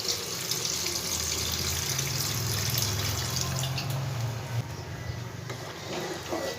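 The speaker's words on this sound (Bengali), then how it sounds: "জল দেব।" Water pours into a pan of spiced potato curry, a steady close splashing rush that runs evenly and eases toward the end, with no talking.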